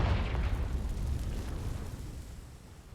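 A Confringo blasting spell explodes in Hogwarts Legacy on PlayStation 5, a deep rumbling blast with a heavy low roar that slowly fades over a few seconds.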